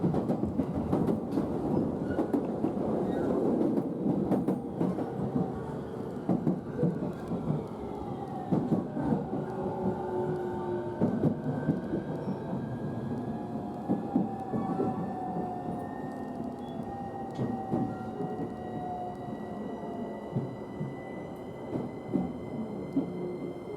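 A train pulling into platform 3 of Omiya Station in Japan, a steady rumbling roll with clattering wheels and a rising, then fading, high whine as it slows, filling the whole stretch with no talk.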